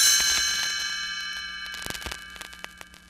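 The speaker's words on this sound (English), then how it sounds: "You will know it is time to turn the page when you hear the chimes ring like this." Bright metallic chimes ring out as a page-turn signal on a Gremlins read-along book-and-record, one clear struck tone with sustained shimmering overtones that slowly decay, with a few light ticks toward the end.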